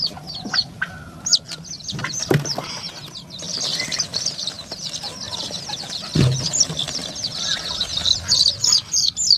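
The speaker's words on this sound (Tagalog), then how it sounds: "Ang dami nating sisiw." Chicks and chickens on a poultry farm, with a dense chorus of high, continuous peeping broken by occasional clucks, wing flaps and a couple of nearby thumps, all close and lively.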